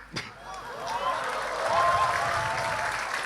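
A crowd breaks into sustained applause that swells and holds, with voices mixed in underneath.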